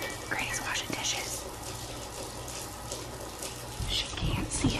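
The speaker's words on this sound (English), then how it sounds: "Granny's washing dishes." Running tap water splashes steadily while dishes clink now and then, with faint whispering over the wash, during a real-life game of Granny.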